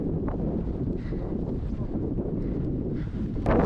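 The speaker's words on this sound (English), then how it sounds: "It's quite windy today." Strong wind buffets the microphone on a pathless Munro mountain in the Scottish Highlands, a steady loud roar throughout with a harder gust at the end.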